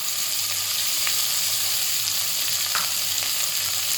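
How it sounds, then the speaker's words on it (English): Capsicum and cabbage stir-frying in hot oil for eggless atta chow mein noodles, a steady close sizzle with a few soft clicks of a spatula, no voices. "Now we'll just stir fry it for at least 2 to 3 minutes."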